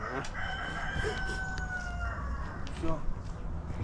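A chicken clucks and crows nearby, with soft background voices and farmyard noise underneath.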